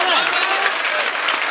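Listeners at a mushaira poetry recital applaud, a dense continuous patter of clapping with crowd murmur and faint voices underneath, steady for a short burst.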